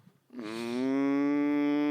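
A cow lows in one long, loud, sustained moo that rises in at the start and holds steady, close and alone.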